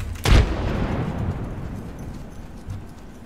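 A frag grenade goes off in a video game: one sharp, loud blast near the start, then a long rumbling decay that fades over the next few seconds.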